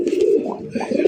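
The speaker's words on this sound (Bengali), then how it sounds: "কবুতর কিন্তু ঘুরতেছে, ডাকতেছে" Male raj golla pigeons coo close by in a low, throaty run of repeated rolling calls, loud and steady across the short stretch with no talking.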